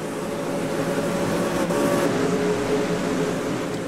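Supercars race cars at St. Petersburg filing into the first corner produce a steady, loud engine drone, several cars blending into one sustained roar with a brief shift in pitch midway.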